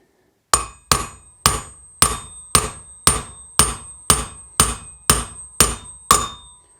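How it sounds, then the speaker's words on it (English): A hammer taps a wheel bearing into an adventure motorcycle's wheel hub until it bottoms against the inner lip: twelve sharp, evenly spaced metallic knocks with a ringing tone, close and loud, with no talking. "you're going to tap this until it bottoms to the lip that's on the inside"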